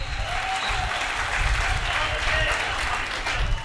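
An audience claps steadily at a Hindi comic poetry gathering, a dense, even wash of applause lasting the whole stretch with no voices on top.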